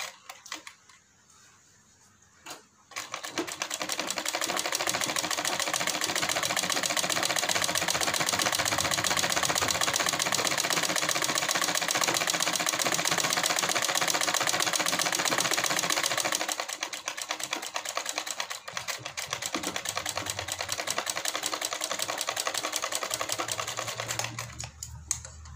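A sewing machine stitches along the edge of a salwar hem, starting after a quiet moment into a loud, fast, continuous needle clatter that runs for a long stretch, then eases into a slower, lower run near the end.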